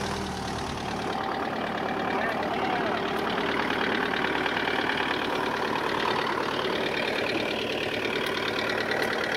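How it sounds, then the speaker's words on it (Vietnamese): An Iseki 417 tractor's diesel engine idles steadily outdoors, a loud, continuous, even rumble with a fine rapid knock that holds at a constant level throughout, with no talking. "Động cơ nổ khá là êm nha"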